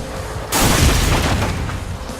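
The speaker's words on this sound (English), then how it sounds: "The density of explosions is just so high." In the racing video game Split/Second, after a brief lull, a heavy explosion bursts in and its deep rumbling roar lingers, loud and close, slowly fading.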